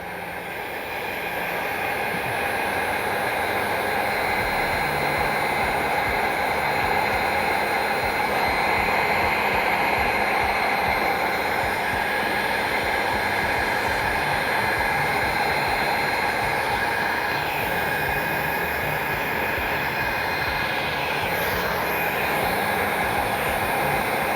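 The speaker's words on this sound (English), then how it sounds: "Then we take the heat gun again, we just start blowing." A heat gun blows steadily on epoxy resin, giving a loud, close, unbroken whooshing roar with a high whine that holds for the whole stretch.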